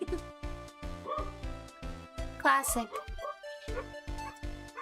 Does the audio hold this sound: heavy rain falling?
no